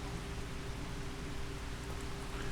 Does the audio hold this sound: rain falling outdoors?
yes